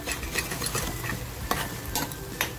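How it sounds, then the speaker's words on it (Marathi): Masala for a spicy Kolhapuri mutton tambda rassa sautés in a pan under a dense, close sizzle, with occasional scraping strokes of a spoon cutting through the steady frying and no voices. "बघा आपला मसाला असा छान परतवून झालेला आहे"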